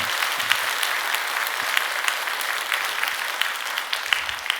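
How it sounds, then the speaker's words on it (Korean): A church congregation applauding together during an afternoon Korean service reporting on short-term mission trips to Tanzania and Mongolia, a steady dense wash of clapping that stays even and sustained throughout. "여러분 감사의 마음을 담아서 한번 박수 한번"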